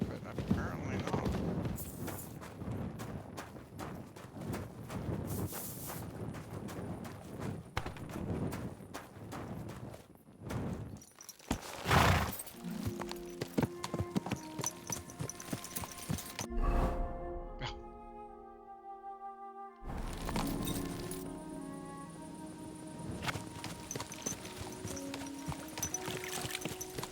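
Horse hooves clip-clop in a walking rhythm amid game sound effects in Kingdom Come: Deliverance II, with a burst of sharper noises near the middle and a short tonal passage.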